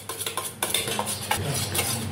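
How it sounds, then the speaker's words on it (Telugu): A spoon stirs four tablespoons of horse gram flour into tamarind water in a mug, giving a quick run of close clinks and scraping taps against the vessel. "ఉండలు లేకుండా చక్కగా మిక్స్ చేసుకోండి."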